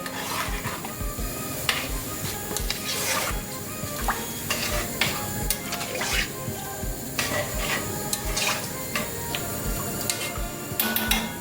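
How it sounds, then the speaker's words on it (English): A spoon scrapes and clinks against a pot as rice with grated carrots is stirred over a medium flame, with repeated irregular knocks and a steady sizzle running underneath. "Give it a nice stir."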